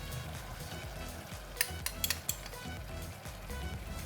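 Taro cake mixture with soy sauce, oyster sauce, black bean paste and sugar sizzles in a pan while a utensil stirs, with a few sharp metallic clinks near the middle over the steady frying hiss.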